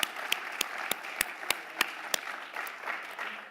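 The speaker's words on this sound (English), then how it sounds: "It's hard, I know it's hard. Let's clap anyway." Audience members at a Walrus Talks event on cities of migration in Surrey clap in a sparse, fairly quiet applause, a few sharp distinct claps standing out over a soft wash of hands.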